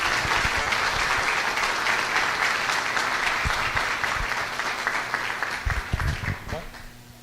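A live audience applauds steadily at a talk event as a guest speaker is welcomed, the dense clapping fading slightly toward the end with some low bumps and a voice starting underneath.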